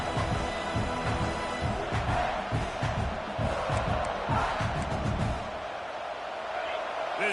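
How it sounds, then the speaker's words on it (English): Football stadium crowd at a South Carolina versus Texas game rising into a loud, sustained roar of cheering that swells and stays dense throughout, easing slightly near the end. "This crowd rising up, sensing that its defense needs some help."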